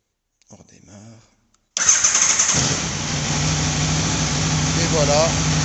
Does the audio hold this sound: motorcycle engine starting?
yes